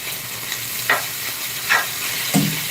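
Chicken breast sears in a pan for fajitas with a steady low sizzle, broken by three brief louder bursts as the pieces are stirred or turned. No one speaks.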